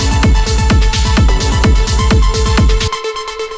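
Electronic track with a saturated synth lead over a drum bus: punchy kick hits pulse about twice per second under a bright, dense lead with sustained tones, cutting to a sparser, fading tail near the end; no voices.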